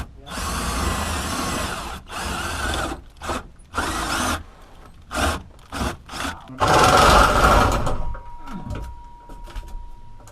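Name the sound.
power drill drilling holes through wood under bus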